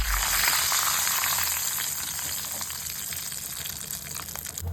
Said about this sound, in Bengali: এটা একটু ফ্রাই ফ্রাই হয়ে গেলে